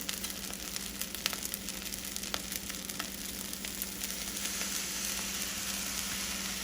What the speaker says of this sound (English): I'm just going to let this finish toasterating like that.